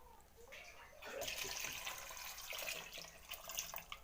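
About one and a half measures of water are poured into a cooking pot of washed grapes for homemade grape wine. After a quiet second, a soft, steady splashing pour continues to the end, fairly faint.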